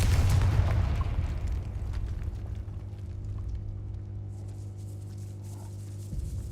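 A Confringo spell explosion in the Hogwarts Legacy video game, opening with a loud booming blast that decays into a rumbling tail and a steady low hum.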